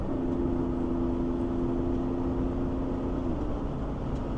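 A BMW E83 X3 engine held in third gear at high revs, a dense steady drone with a sustained tonal whine that holds level and then drops slightly near the end.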